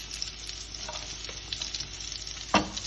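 Onions and green chili fry in a pan with a soft, continuous sizzle, punctuated by a few quiet stirring scrapes and one sharper clatter near the end.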